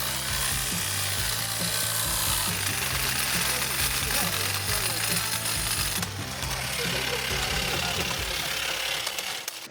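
A new Makita brushless power tool runs continuously at high speed at a trade launch event, a steady loud mechanical whine and grind with faint talk underneath throughout.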